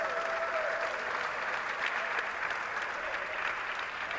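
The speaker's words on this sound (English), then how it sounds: "let's give a round of applause for our second group of competitors" A crowd applauds Rubik's cube competitors at a speedcubing all-star event, a dense, even wash of clapping that holds steady throughout, with a faint tonal sound running underneath.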